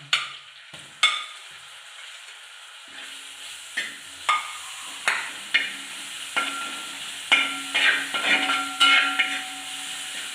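Crushed ginger and garlic fry and sizzle in a pan for a homestyle chicken curry while a spoon stirs and knocks against the pan every second or so, loud and close with no talking.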